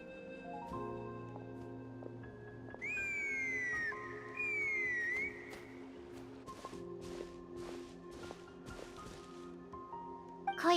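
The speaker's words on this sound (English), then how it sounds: "from the sound of her whistling" A woman character whistles in Genshin Impact, with a few rising and falling tones over a soft game ambience of faint rustles and taps, and no talk.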